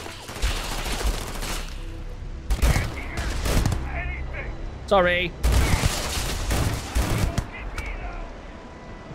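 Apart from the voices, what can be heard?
gunfire in a video game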